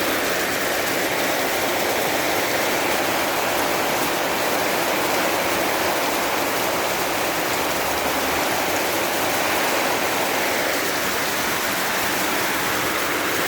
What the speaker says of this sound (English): now we have the rain